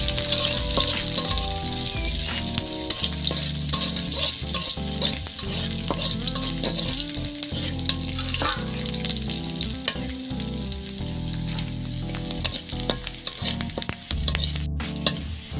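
Onions fry in a pan before greens are added, a constant close sizzle with occasional scraping stirs of a spatula, steady and unbroken, with no talking.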